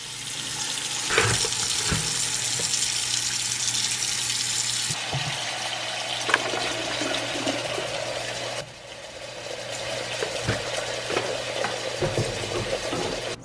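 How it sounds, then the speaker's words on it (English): Tap water pours steadily into a kitchen sink, filling it for washing fruit and vegetables, a continuous rushing hiss with a few knocks and a drop in the flow partway through. "we're gonna fill this sink up with some water"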